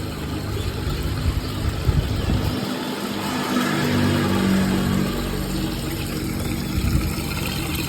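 A general-purpose water pump drives a homemade venturi jet aerator for a fish pond, giving a continuous mid-pitched motor drone with churning water that holds steady throughout, slightly swelling midway.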